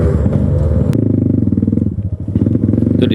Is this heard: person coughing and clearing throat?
no